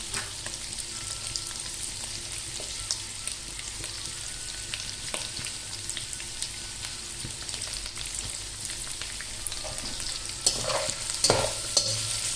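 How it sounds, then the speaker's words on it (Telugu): Onions and green chillies frying in a pan for egg fried rice give a steady close hiss of sizzling oil, with scattered stirring scrapes and a louder clatter near the end. "ఇట్లా బాగా ఫ్రై అయ్యేటప్పుడు పచ్చిమిరపకాయ, ఆనియన్స్,"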